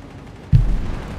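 A single heavy gunfire impact lands among anti-tank guns in the WWII strategy game Company of Heroes 3, a sudden low boom that rumbles on briefly under the battle ambience.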